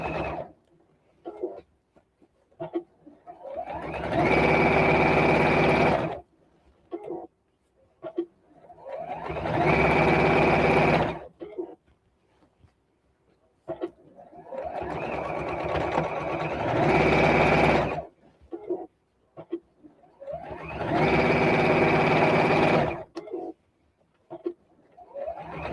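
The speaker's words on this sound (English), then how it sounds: "Up to number 3, stitch length on my machine, and sew all around." A sewing machine stitches around a jersey fabric tote at stitch length 3 in four loud sustained runs of several seconds each, separated by quiet pauses with small handling noises.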